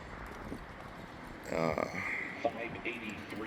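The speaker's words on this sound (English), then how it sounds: "So the horses are warming up in the paddock to go on the track." Racehorse hooves clopping faintly on the ground as horses warm up in a paddock before going on the track, a rhythmic patter mixed with background chatter and ambient outdoor noise.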